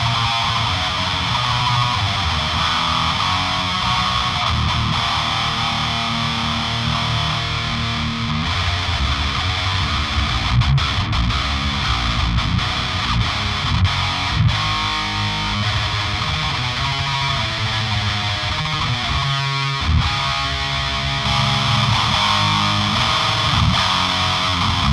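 A heavily distorted electric guitar through an Otto Audio II II II II amp simulator plays a thick, buzzing chainsaw-like chugging tone, continuous and loud with no voices.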